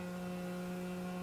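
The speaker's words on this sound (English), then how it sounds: "So this is the vibration part of the collar, so you can kind of get a general idea of seeing how that is kind of buzzing." A remote dog training collar buzzes in vibration mode, a steady low electric hum held evenly and close for the whole moment, with no other sounds.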